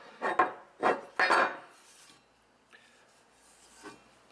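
Fine P1200 sandpaper rubbing on a metal strut bar, three close, firm rasping strokes in quick succession, then fainter scuffs trailing off, with no talking.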